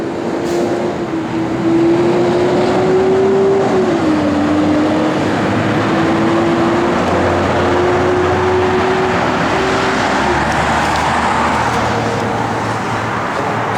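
A 1972 Chevrolet Nova engine runs at a steady idle, giving a loud, continuous low rumble with a droning tone that wavers slightly in pitch. No voices are heard over it.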